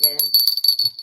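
A high, bright bell rings in a rapid series of short repeated strikes, loud and close, with brief voice sounds at the start.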